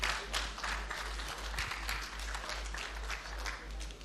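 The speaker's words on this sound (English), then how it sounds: "I believe we can make the applause a bit louder for the Honorable Minister of Information and National Orientation" Audience applause at a Nigeria at 65 world press conference in Abuja for the Minister of Information and National Orientation, fairly faint scattered clapping over a steady low hum.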